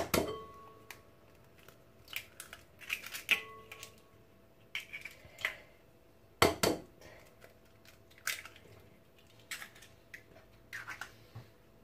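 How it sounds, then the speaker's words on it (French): Two eggs cracked for a savory cake batter with peppers and tuna in a home kitchen: a series of faint, close taps and knocks against a bowl, with clicks and small clatters spaced irregularly, one sharper crack midway. "On va venir casser 2 œufs."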